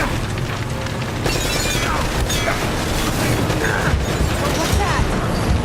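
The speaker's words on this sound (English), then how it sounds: "Rocket launcher!" A rocket launcher explosion in Uncharted: Drake's Fortune hits as a loud boom with crashing debris, followed by ongoing rumbling and clattering chaos across the rest of the moment.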